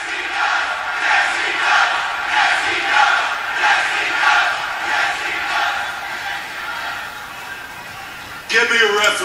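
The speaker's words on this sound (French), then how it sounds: "La foule chante yes he does." A WWE Raw arena crowd from January 2019 chants in steady rhythmic pulses, a loud, dense mass of voices rising and falling together, ending with a brief sharper burst of noise.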